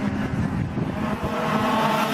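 Racing karts in a Formula Blue class at the Clay Pigeon circuit pass on track, high buzzing engines rising and fading as they go by, moderately loud and overlapping.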